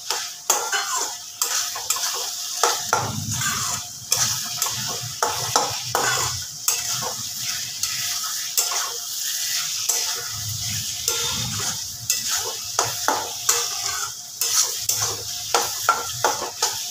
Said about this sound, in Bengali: গ্যাসটা এবার বাড়িয়ে দিয়ে আরও একটু আমি কষে নেব।